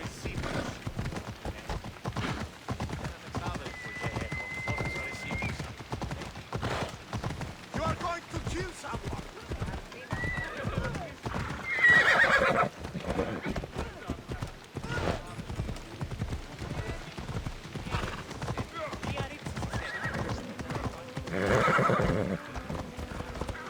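A horse gallops with rapid, rhythmic hoofbeats and lets out neighs in the video game Assassin's Creed Odyssey, with someone talking in French over the steady clatter.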